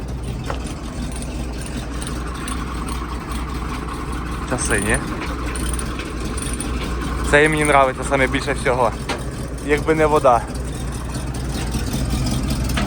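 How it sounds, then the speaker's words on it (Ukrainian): A ZIL truck's engine idles with a steady low rumble throughout, with people talking over it in the second half. "Моторчик шепче."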